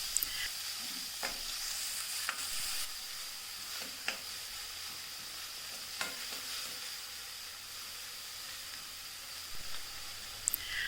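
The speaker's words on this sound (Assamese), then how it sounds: "এতিয়া পিঁয়াজখিনিৰ পৰা তেল বিৰিঙি অহালৈ ভালকৈ ভাজি থাকিলোঁ।" Finely chopped onions fry in hot oil in a kadai-style wok for chicken gravy, giving a steady, fairly quiet sizzle with a few sharp clicks and scrapes of stirring spaced through it.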